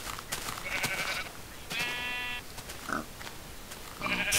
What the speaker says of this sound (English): Look at those sheep.